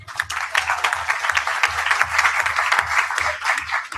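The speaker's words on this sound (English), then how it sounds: "So, applause before and after her lecture." An audience at an international sustainability seminar applauds before a lecture, with a steady patter of many hands and a few distinct claps standing out above a faint low hum.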